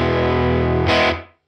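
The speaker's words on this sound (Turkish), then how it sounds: "Bir de köprü manyetiğinde dinleyelim. Buna bir de booster eklemek istiyorum." Electric guitar on its bridge pickup played through a Universal Audio UAFX Woodrow '55 amp pedal with a booster added, a distorted sustained chord that swells briefly before being cut off and fading to silence.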